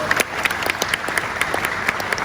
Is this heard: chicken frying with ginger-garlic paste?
no